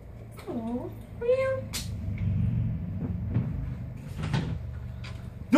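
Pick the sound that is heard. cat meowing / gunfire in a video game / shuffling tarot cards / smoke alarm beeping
cat meowing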